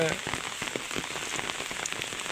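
Steady rain patters on a hard surface at a grazing field for Garole sheep, continuous and moderately loud, with no voices.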